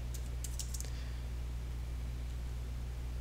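A short burst of quick keystrokes on a computer keyboard as a command is typed, followed by quiet steady room hum.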